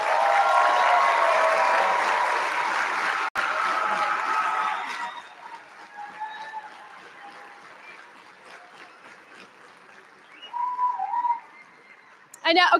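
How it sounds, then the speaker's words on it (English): Graduates at a University of Western States graduation ceremony applaud their families, with dense clapping, cheering and whistles filling a large space for several seconds before fading into scattered sounds and a faint voice, then a last burst. "I'd ask you to turn and applaud your family and friends"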